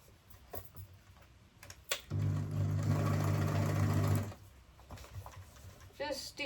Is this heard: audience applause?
no